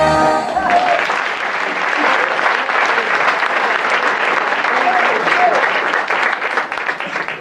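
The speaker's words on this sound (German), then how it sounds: "einen herzlichen Dank für diesen warmen Applaus und für diesen netten Empfang" Warm, sustained applause fills a hall at a Cologne Christmas concert, a dense, steady wash of clapping from a large audience that begins just after music ends and carries on evenly.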